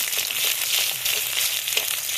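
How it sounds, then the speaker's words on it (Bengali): Sliced onion frying in hot oil with bay leaves in a village kitchen, giving a steady, loud, crackling sizzle that carries on without a break and with no talking. "পেঁয়াজটা ভেজে নিয়েছি।"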